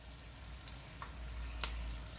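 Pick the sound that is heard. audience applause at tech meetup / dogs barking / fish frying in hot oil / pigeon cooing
fish frying in hot oil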